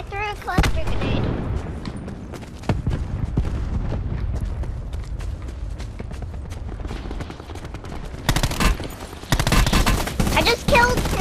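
Cluster grenade explosions go off in the Call of Duty Blackout video game, a dense fusillade of loud blasts and gunfire, heavy at the start and again in the last few seconds.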